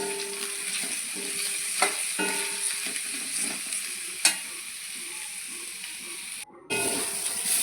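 Ash gourd and potato peels fry in mustard oil in a kadai, a constant close hiss and sizzle with a few sharp stirring knocks and a brief dip before the frying noise resumes.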